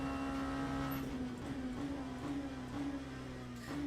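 Race car in the sim Le Mans Ultimate, multi-class LMP2 and LMGT3 running at Bahrain's outer circuit, a faint, steady high-revving engine drone held at an even pitch throughout.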